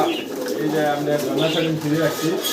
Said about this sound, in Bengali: এই যে দুই জোড়া কবুতর একদম মাস্টার পেয়ার